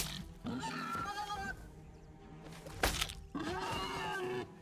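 Goats bleat in the Pax Dei video game, with two long, wavering calls and a sharp thump between them, heard alone without talk.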